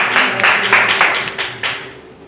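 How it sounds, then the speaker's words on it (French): A church congregation claps in a few short bursts of hand claps, close and fairly loud, fading out after about two seconds. "Est-ce qu'on peut acclamer pour la parole de Dieu?"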